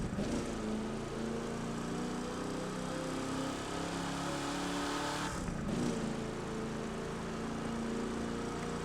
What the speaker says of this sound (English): If you're on a drag strip, you have to give it a run.